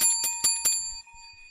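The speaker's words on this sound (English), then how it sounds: "you get the bell" A bicycle-style bell rung for a correct answer in a classical music quiz game: four quick bright rings in a row, close and clear, followed by a faint pause.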